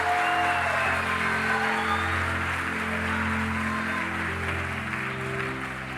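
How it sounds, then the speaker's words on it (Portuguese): Steady applause from a church congregation fills the space continuously, over a sustained musical drone. "Dê um aplauso ao Senhor"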